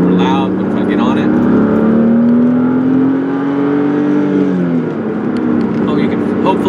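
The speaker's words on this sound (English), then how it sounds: "It's a little bit of engine noise. It does have an aftermarket intake, so it does give it a little bellow." A 1995 BMW M3 with an aftermarket intake and exhaust revs up: a loud, rising engine drone climbs steadily for about four seconds, then drops away, with a constant low rumble underneath.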